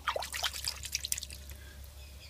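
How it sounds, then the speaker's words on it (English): Faint water sloshing and dripping in a bucket in a workshop, soft trickles and small splashes over the first second or so, then fading to quiet low hum. "This is a bucket of water."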